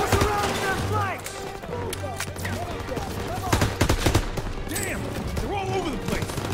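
Machine gun fire in Call of Duty WW2 as an MG fires on a staircase, sharp rattling bursts and scattered shots beneath urgent voices and battle noise, loud and close.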